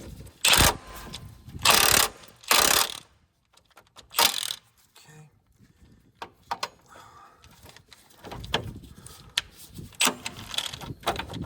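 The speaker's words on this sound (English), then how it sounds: "take your torque wrench here" A torque wrench ratchets on rusty front brake bolts of a 2007 Honda CR-V, with several loud bursts of clicking separated by pauses, then quieter metallic rattling and handling noises nearby.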